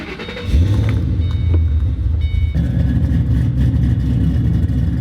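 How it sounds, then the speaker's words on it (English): A Ford V8 engine cranks and catches, then settles into a loud, rumbling idle with a few rises in revs, heard close and with no talking. "Nothing beats that sound of a Ford V8."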